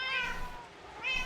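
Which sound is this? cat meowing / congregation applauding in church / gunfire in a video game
cat meowing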